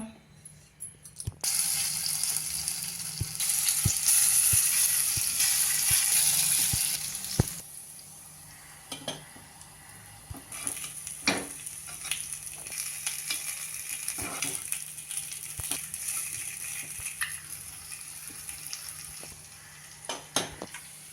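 Sweet corn appe fry in an appe pan, sizzling loudly for several seconds before settling into a softer, crackling fry broken by occasional sharp taps and clicks.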